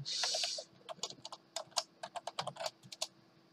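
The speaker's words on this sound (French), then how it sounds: "quand vous allez taper votre mot de passe" Fingers tap a password on a computer keyboard, an irregular run of close, crisp keystrokes after a brief hiss at the start.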